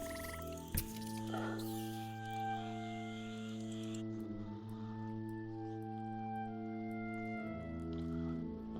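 A frog croaks in a swamp at dusk in the video game Empires of the Undergrowth. The low, sustained tonal calls sit over soft ambient background, with one sharp tap near the start.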